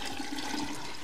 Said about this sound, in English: I have a pitcher of water. I'm gonna pour it into my jar.